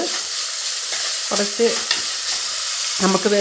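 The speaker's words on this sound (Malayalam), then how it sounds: "എന്നിട്ട് നന്നായിട്ടൊന്ന് ഇളക്കി കൊടുക്കാം" Ginger, garlic and curry leaves fry in a pan, with a steady sizzle under a few short bursts of stirring scrapes.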